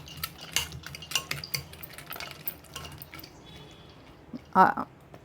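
Tamarind pulihora rice being stirred and mixed in a pot, with soft repeated scrapes and clinks of a utensil against the pot and a louder clatter near the end, under someone speaking.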